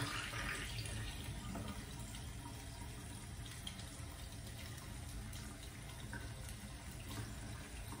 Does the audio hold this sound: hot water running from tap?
yes